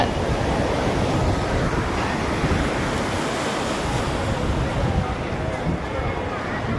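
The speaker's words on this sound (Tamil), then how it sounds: "அதுலேயே வந்து இந்த அலை மோதுற அளவுக்கு இருக்குது பாருங்க பறந்து விரிந்த கடல்" Sea waves crash and roar steadily along the shore at Tiruchendur temple, with wind rushing over the microphone and a faint murmur of bathing crowds.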